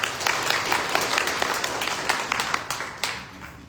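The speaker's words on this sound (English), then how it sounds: "Just give them a round of applause, please" An audience gives a round of applause for children about to perform a display at a Durga Maa devotional event, a steady wash of many hands clapping that gradually thins out toward the end.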